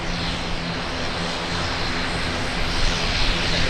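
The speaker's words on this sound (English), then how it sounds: "Another ATR coming out to play." An ATR turboprop at Auckland Airport gives a continuous, loud, broadband engine and propeller roar with a low tonal hum underneath, steady throughout with no talking.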